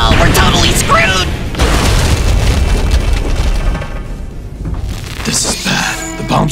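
A cartoon bomb explosion bursts into a loud, sustained rumbling boom with crackling debris, dense and close, easing briefly before another burst near the end.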